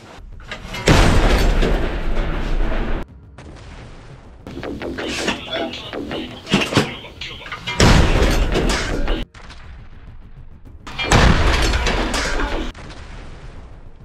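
Heavy artillery fire booms in several separate bursts, each a loud blast with a long rumbling tail, broken by quieter gaps with distant crashes; a voice speaks between the blasts.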